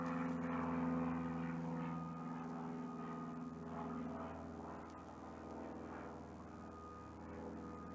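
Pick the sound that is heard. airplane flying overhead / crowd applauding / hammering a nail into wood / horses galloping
airplane flying overhead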